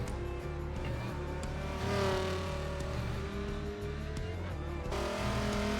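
Race car in Forza Motorsport 7 at Long Beach sliding through turn 4, a steady droning engine note with tire squeal layered over it, loud and close throughout.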